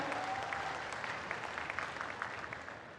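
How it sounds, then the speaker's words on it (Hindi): Loud, sustained applause from a large audience at a political rally in Jhabua, Madhya Pradesh, a steady dense wash of clapping with no pauses, carrying on throughout. "जोरदार ताली बजाएं, अभिनंदन करें।"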